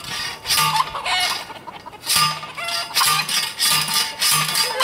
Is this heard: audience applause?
no